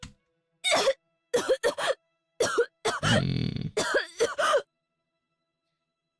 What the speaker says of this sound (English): she had an asthma attack and started to cough pretty badly